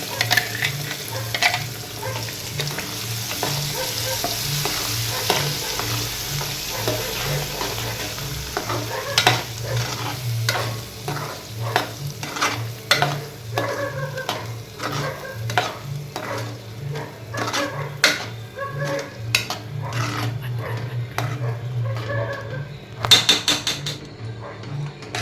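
Masala paste for an all-purpose Punjabi hotel-style gravy stirred and fried in a pan, a continuous close sizzle with rhythmic spatula scrapes and clinks growing busier toward the end.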